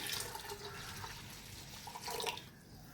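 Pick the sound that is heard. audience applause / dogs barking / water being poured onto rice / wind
water being poured onto rice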